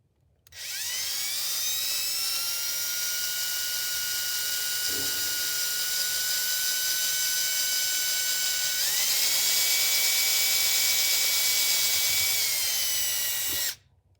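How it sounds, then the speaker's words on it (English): A high-pitched power drill running in reverse while removing a stripped screw whines steadily for several seconds, shifting briefly to a slightly higher pitch before stopping abruptly. "turn your drill in reverse"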